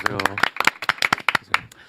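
Scattered clapping from a small studio audience welcoming a reporter, with separate sharp claps rather than a full ovation, and a voice speaking over the start.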